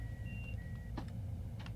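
A Long Island Rail Road M7 cab in Train Sim World 4 gives off a few thin, steady warning beep tones over a low engine rumble, with some brief clicks after them.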